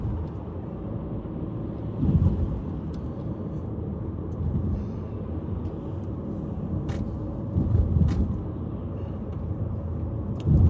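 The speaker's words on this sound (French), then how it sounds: "je roule lentement. Oh oui, c'est normal parce que devant moi il y a un bus, il y a la circulation est dense" A car creeps along slowly in dense city traffic behind a bus, heard from inside as a steady low engine and road rumble with a few slight swells and faint clicks.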